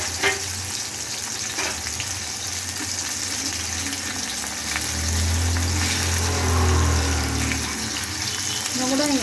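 Anchovies frying in a small amount of oil, a steady close sizzle running throughout and swelling louder in the second half, with occasional soft clinks and no voices.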